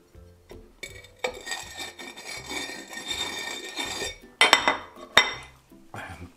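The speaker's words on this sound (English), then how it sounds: "I've got some celery salt here. So you rim the glass with that first." Glass rim being rubbed and turned in celery salt for a Bloody Mary, a close, scratchy gritty scraping with clinks of glass against a dish, ending in a few sharper knocks.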